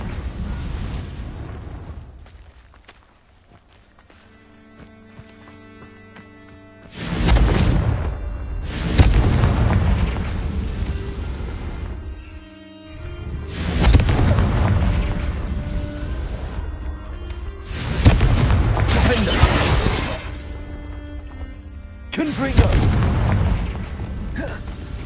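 Confringo fire-spell blasts in the Hogwarts Legacy video game, a series of loud booming bursts with rumbling tails arriving in irregular clusters over a quieter musical bed.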